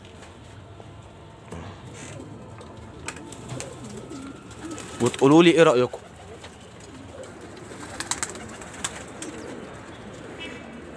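Pigeons kept in a loft coo in a short burst near the middle, set against background noise, with someone talking over the scene.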